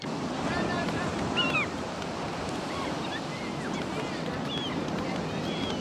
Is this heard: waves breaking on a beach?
yes